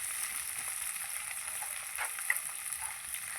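Potatoes frying in hot oil in a pan, a steady broadband sizzle with faint crackles throughout and no voices, close and continuous.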